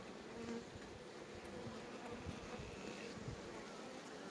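A dense, steady hum of many honeybees buzzing together during a hive split, continuous and fairly close, with no voices.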